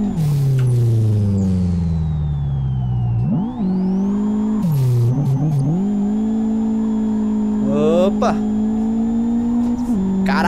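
A turbocharged Chevy DL race car engine in Live for Speed, 3.5 kg boost, droning loud and close, revving up through the gears with sharp drops at each shift and a brief squeal.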